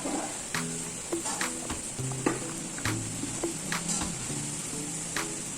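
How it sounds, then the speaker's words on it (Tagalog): Grated ube being stirred in a pan for ube jam, with a steady soft sizzle and repeated scraping strokes of a utensil against the pan, close and continuous. "So in a pan, we're going to mix 700 grams of grated ube,"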